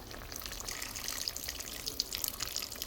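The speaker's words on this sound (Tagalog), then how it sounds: "Dagdagan natin ng konting tubig." Water pours steadily into a cooking pot of Bisaya nilapad with reddened annatto seeds, a continuous close splashing trickle lasting a few seconds with no talk.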